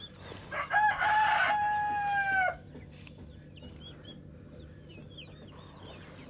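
Rooster crowing loudly and close, one long cock-a-doodle-doo with a couple of clucks around it, then quieter chicken clucks and chirps over an outdoor backyard hum, with no talk.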